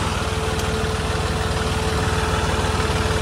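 Massey Ferguson 9500 Smart 4WD tractor engine idling steadily up close, a loud continuous diesel throb with even low pulsing and no voices.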